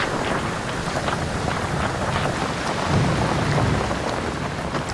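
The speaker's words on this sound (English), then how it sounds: "we saw our fair share of torrential downpours on this trip" Heavy torrential rain pours down steadily in a dense, hissing roar on a Suriname creek, with low rumbling underneath suggesting thunder; no voices.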